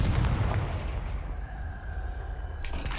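A Confringo fire blast spell in Hogwarts Legacy erupts as a loud, booming burst that rumbles heavily at the start, then fades into a lingering low roar with game ambience.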